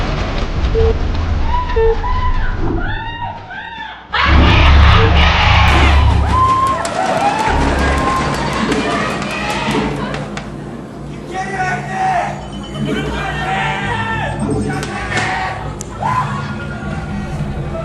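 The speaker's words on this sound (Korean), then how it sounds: "관중석 난리 났습니다" A stadium crowd at a StarCraft league quarterfinal match, Ma Jae-yoon vs Byun Hyung-tae, roars and cheers loudly in a sustained wash of shouts and whoops, swelling sharply partway through, with voices talking over it.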